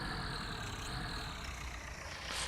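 Tractor engine in Farming Simulator 19 running at a steady mid-pitched hum, with a winch-equipped tractor set up for pulling logs; continuous and even with no talk over it.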